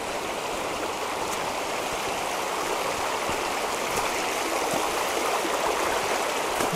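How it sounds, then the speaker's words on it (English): A stream flows steadily near Glenmooar beach on the Isle of Man, with a continuous rushing, burbling wash of water, fairly near and even throughout, with no voices. "this is the stream that travels down from there"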